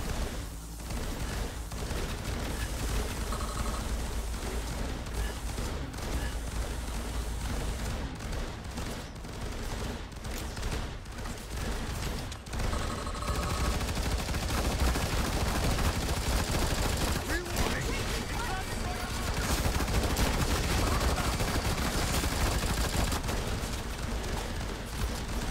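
Many player-built turrets firing at once in the video game Firefall, a dense, continuous barrage of overlapping gunfire and blasts that runs the whole time at steady loudness, with brief bursts of voice over it.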